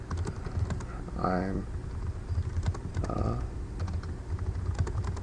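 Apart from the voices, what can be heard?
typing on a computer keyboard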